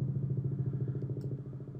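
Helicopter sound effect from a cinematic toolbox: a steady, loud low rotor thump pulsing rapidly throughout, with faint higher clicks near the end and no talking.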